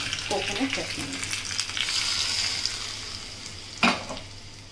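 Red dry chillies and curry leaves sizzle in hot oil for a tempering meant for coconut chutney, a steady frying hiss with a sharp crackle near the end; a voice speaks briefly at the start.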